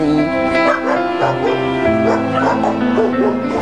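Several dogs at an animal shelter bark and yip in quick overlapping bursts, close and loud, mixed with whimpers and other sounds throughout.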